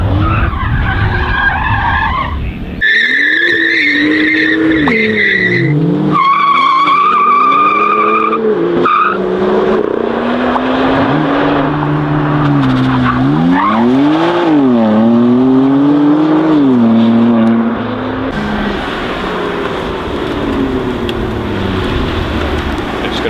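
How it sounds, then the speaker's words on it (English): Cars in a drag race off the line, one of them a BMW M2, roar as they accelerate hard and then brake, with long wavering tyre squeals and skids, loud and close, repeating over and over without talk. "They just accelerate off the line and brake hard and accelerate and brake hard."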